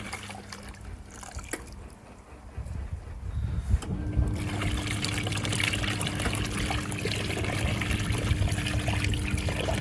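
Water gushes steadily through a National NA9450PN washing machine, a quieter trickle turning into a loud, continuous rushing flow after a few seconds, with a low steady hum beneath.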